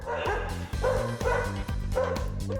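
Several dogs bark and yip excitedly in a 250-square-metre indoor dog park at a grooming salon, loud overlapping barks in rapid bursts filling the enclosed space.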